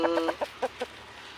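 Chickens cluck in a short run of quick, faint clucks, about six notes that fade away, with no other sound around them.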